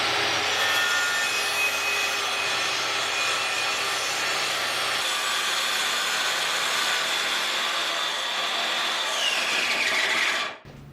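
A common circular saw cuts through a tree branch held in a branch holder on a 24-inch EDCO yard waste barrel, giving a loud, steady, continuous whine and rasp for about ten seconds before stopping abruptly.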